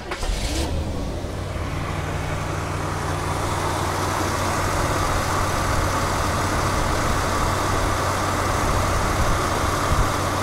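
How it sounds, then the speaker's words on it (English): A 1970 Chevrolet Caprice with a 454 V8, engine cold, cranks briefly and catches, then settles into a loud, steady, rumbling fast idle close by with no letup. "And the motor's a little cold, so the fast idle's on."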